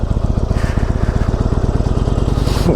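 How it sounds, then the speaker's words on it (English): A Sportster motorcycle engine runs steadily up close, its loud, rapid, even firing pulses overlaid with a mechanical clickety-clack tapping noise throughout. "you hear it go clickety clack. That's just a Sportster running, but it's making noise."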